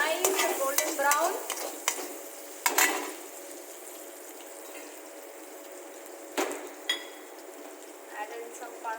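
Ginger and garlic fry in a wok, a close sizzle with clinks and scrapes of stirring, bursts of louder clatter and a faint voice in the background.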